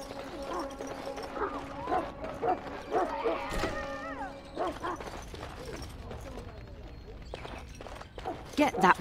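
In the Dragon Age Origins prologue, a dog barks, yips and whimpers in short bursts mixed with game sound effects and mechanical clatter, while characters talk around it.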